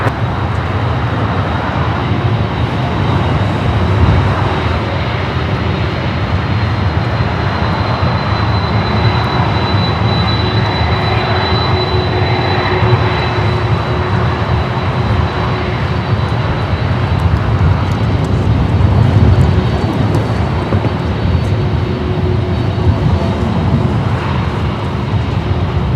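A Delta airliner takes off at Los Angeles International Airport, a loud, steady roar of jet engines with a broad rumbling hum and faint whining tones sustained throughout.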